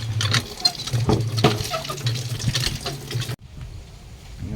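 A pet goose splashes while bathing in water, irregular close patter and slaps of water for a few seconds before the sound cuts to a quiet background.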